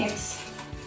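Ingredients are stirred in a pot on a hot stove. A brief, close scraping swirl runs over a light sizzle, with a quick clink near the end.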